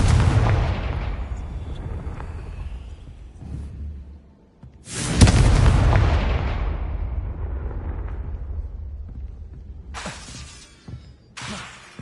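Confringo explosion spell in the game Hogwarts Legacy: a loud booming blast that rolls off slowly, a second big explosion midway, then two shorter bursts near the end.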